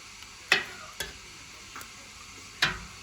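A spoon taps and scrapes in a pot, breaking up homemade cheese curd, soft wet clicks separated by quiet pauses.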